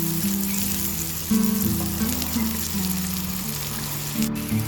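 Jalapenos fry in a pan for a steak strip sub, giving a steady close-up sizzle and crackle that runs throughout over a faint low hum.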